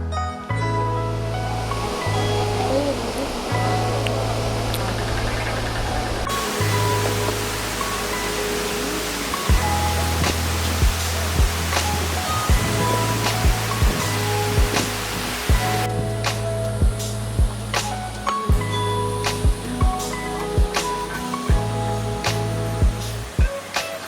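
The Menal waterfall in Rajasthan produces a continuous rushing roar of falling water that runs the whole length, overlaid by steady background music with sustained low notes.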